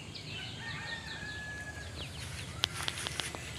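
Ducks by a pond with blooming water lilies give short fowl-like calls, with thin bird chirps in the background and a few sharper, louder calls near the end.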